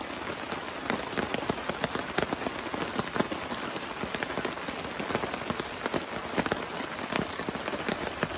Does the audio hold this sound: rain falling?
yes